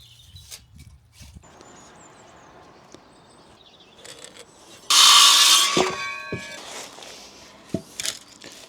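Timber is worked for a small garden retaining wall, with scattered knocks and handling sounds, then a loud burst of a power tool driving or cutting, followed by more clunks and taps outdoors.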